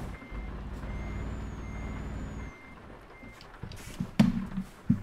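A truck in Euro Truck Simulator 2 reversing, its steady electronic backup beeps repeating over a low engine rumble for a few seconds, then a sharp hiss of air brakes and clunks as it stops.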